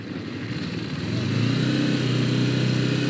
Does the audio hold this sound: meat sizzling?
no